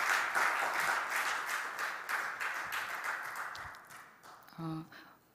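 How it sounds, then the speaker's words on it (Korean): Members of a church congregation at an evening worship service applaud to welcome a preacher, a moderate round of clapping that gradually fades out before a brief spoken voice at the end. "큰 박수로 우리 한번 환영할까요?"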